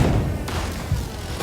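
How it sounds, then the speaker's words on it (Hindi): Bomb blasts in Gaza: deep, heavy thuds and rumbling booms, loud and continuous, with a sharper impact near the middle and another near the end, no talk. "ये गाजा के धमाके हैं"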